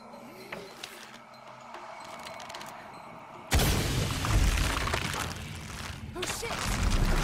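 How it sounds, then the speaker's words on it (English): A loud explosion in Shadow of the Tomb Raider, triggered to raise a platform, bursts in suddenly after a quiet stretch of ambient game sound and rumbles on with a dense roar that fills the rest of the scene. "I'll need to create an explosion to raise the platform."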